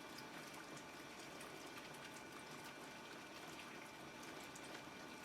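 Anycubic Wash & Cure Plus washing resin 3D prints in water produces a faint, steady churning hiss of agitated liquid, continuous and even throughout with no talking.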